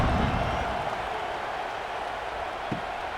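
Simulated stadium crowd noise in EA College Football 26 at a college football game, a steady, dense roar that buzzes evenly throughout with no distinct voices.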